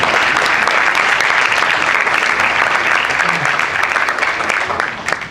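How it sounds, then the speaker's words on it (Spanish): Sustained applause from an audience at an Argentine colloquium on national defense industry, welcoming a speaker; dense, steady clapping fills the room, fading slightly near the end. "un fuerte aplauso"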